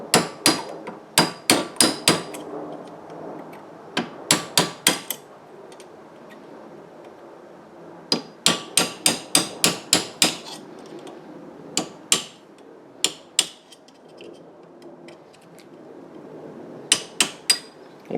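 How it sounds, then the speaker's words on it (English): Sharp metallic hammer blows on a punch driving a metal lever on an M92 held in a vise, struck in quick bursts of three to six hits separated by short pauses, close and loud. "I'm using a punch and a hammer to get it moved into position here"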